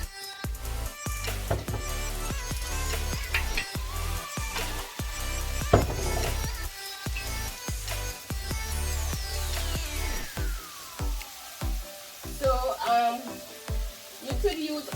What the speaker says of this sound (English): my hot pepper is frying a bit